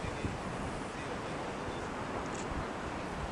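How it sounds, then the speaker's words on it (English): Wind blows steadily outdoors on a cold day, a dense, broadband rush and rumble of gusts buffeting the microphone, constant and fairly loud throughout with no clear voices. "It's just a little windy."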